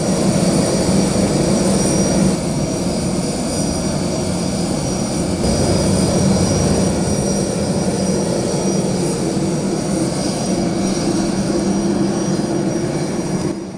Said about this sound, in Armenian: Փաշինյանին սպասարկող ինքնաթիռը վայրէջք կատարեց Սոչիի միջազգային օդանավակայանում։